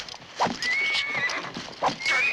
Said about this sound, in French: Brando qui frappe son cheval